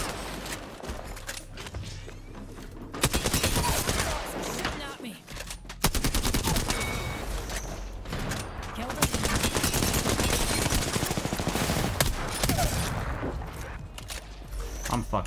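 Rapid automatic gunfire from an R-99 submachine gun in Apex Legends, loud sustained bursts with short pauses and mechanical clicks, accompanied by game sound effects.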